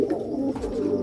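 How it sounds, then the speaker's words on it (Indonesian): A pigeon coos close by in a short, low, throaty burst, alone with no talk over it. "Nah kebetulan di sini saya ada contoh merpati."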